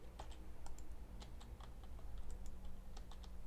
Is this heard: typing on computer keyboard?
yes